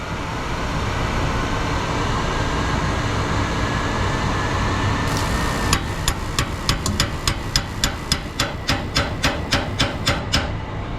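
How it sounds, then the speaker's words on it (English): A hammer taps rapidly and evenly on the gas valve of a Carrier rooftop heating unit that has a no-heat fault, about fourteen sharp metallic strikes over a steady mechanical hum. "We're going to try one last time the hammer method"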